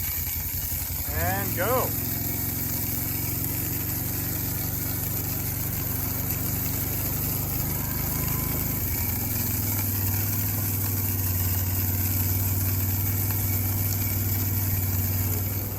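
A motor on an ATV-mounted broadcast seed spreader starts up and runs at a steady hum alongside the idling ATV engine, with someone speaking briefly near the start.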